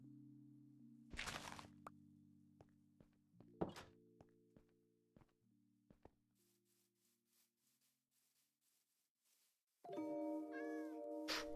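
A calico cat in the Minecraft video game meows among sharp game thunks, clicks and footsteps, with a low droning tone underneath, then a bright, loud chiming jingle near the end.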